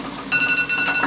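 A timer alarm goes off during home caffenol film development, a rapid, even train of thin electronic beeps at moderate volume lasting under a second, with no voices.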